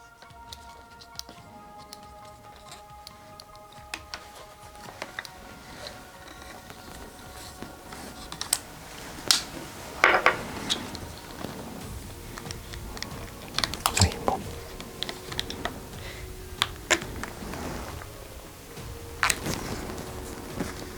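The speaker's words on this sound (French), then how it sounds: "je vais simplement retourner ma sangle et percer mon passant comme ça par" A leather strap loop is punched with a tool, giving scattered sharp ticks and clicks at an irregular pace against a quiet background, close, with no talking.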